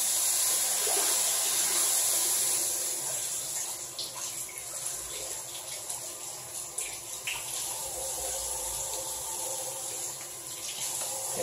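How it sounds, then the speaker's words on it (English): Warm tap water runs steadily from a faucet into a plastic bag, a continuous hiss-like rush of pouring water at close range that eases slightly in level partway through, with no talking. "So we're going to fill it with warm tap water."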